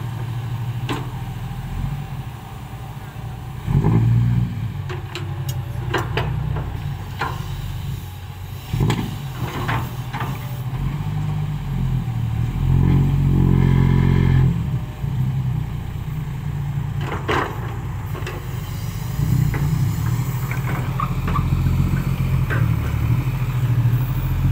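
A motorcycle with a newly made exhaust idles with a low, steady rumble, punctuated by a few short throttle blips and revs.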